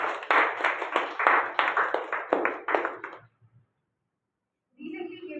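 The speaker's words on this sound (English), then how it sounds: "you all give a big round of applause for him." A round of applause at a Vellore Toastmasters club meeting, brisk clapping from a small group for about three seconds that dies out into silence, then a voice starts speaking.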